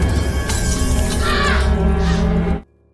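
A drinking glass is dropped and shatters, a loud, bright burst of breaking glass with tinkling shards that lasts over two seconds before cutting off abruptly.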